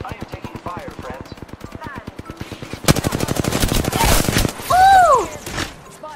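Rapid automatic gunfire in the video game Apex Legends, a steady rattle of shots that grows louder and denser midway, with a voice talking over and game sounds between bursts.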